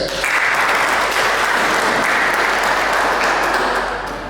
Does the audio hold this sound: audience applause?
yes